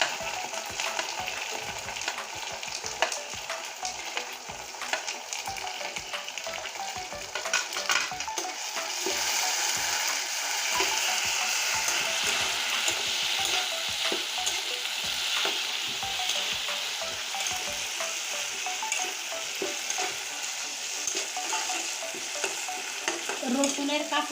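Garlic paste and dried red chili paste sauté in a hot pan, a continuous crackling sizzle broken by repeated scraping strokes of a spatula, growing louder and fuller partway through, with no talk.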